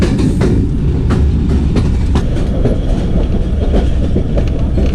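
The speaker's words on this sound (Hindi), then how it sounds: "रेलवे स्टेशन है उस पर एंटर हो रही है ट्रेन।" The Jaffar Express passenger train, on its Rawalpindi to Quetta run, rolls into Shikarpur railway station with a loud, steady rumble and a rhythmic clickety-clack of wheels over rail joints, heard close from on board.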